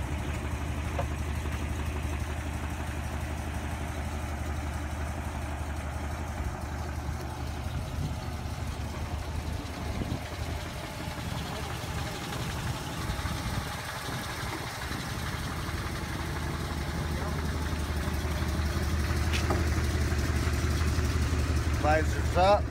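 A 1968 Oldsmobile 442 idling, a steady low rumbling engine hum that holds even and grows slightly louder toward the end, with voices talking over it.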